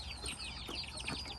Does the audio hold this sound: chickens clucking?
yes